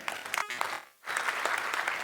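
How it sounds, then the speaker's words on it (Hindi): Audience applause at a network marketing talk, a dense wash of clapping that breaks off briefly in the middle and then resumes at full strength. "तालियां होनी चाहिए।"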